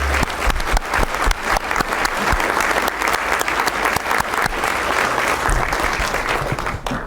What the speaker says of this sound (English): I need an applause just for them